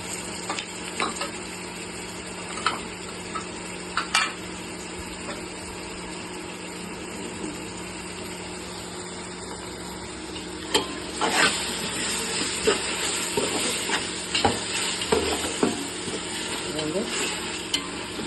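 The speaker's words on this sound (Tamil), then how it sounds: "இஞ்சி பூண்டு வந்து நல்லா வதங்கட்டும்" Ginger garlic paste frying with softened onions in a pan, with a steady low sizzle and intermittent scraping stirs that grow busier toward the end; no talking.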